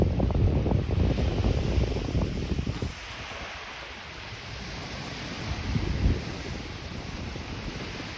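Waves on Lake Ontario washing ashore at Woodbine Beach in Toronto, a broad steady surf wash with wind rumbling across the microphone, loudest early on, then easing into a softer continuous swash with a swell near the end.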